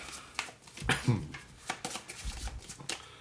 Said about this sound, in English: we're going to shuffle this discard pile.